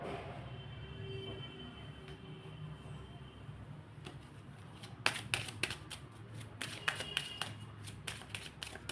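A deck of tarot cards is shuffled by hand during a reading. The quiet room tone gives way to a run of crisp, rhythmic riffling snaps in the second half.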